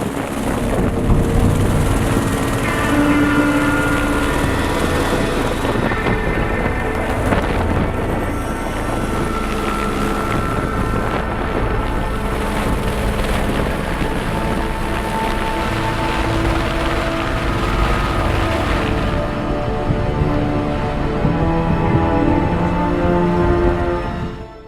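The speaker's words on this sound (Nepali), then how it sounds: "पन्ध्र मिनटपछि पुनः हेलिकप्टर गोक्यो हेलिप्याडमा आइपुग्छ।" A long-line rescue helicopter flies over mountains near a Gokyo helipad, its loud, steady rotor and engine roar filling the whole stretch without letting up.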